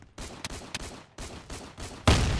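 Repeater rifle shots in a video game, a handful of sharp cracks spread across a short stretch over a steady background bed, ending in a louder, denser burst.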